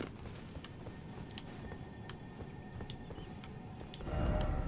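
Horse hooves clip-clop at a steady walking pace in Elden Ring, a fairly close, even patter of hoofbeats with a louder rumble swelling at the end, no voices.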